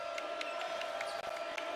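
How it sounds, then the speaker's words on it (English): A home crowd at a Tulane Green Wave college basketball game against Houston keeps up a steady, unbroken roar of cheering and murmuring throughout, with no distinct applause bursts standing out. "This crowd trying to will the Green Wave back into it"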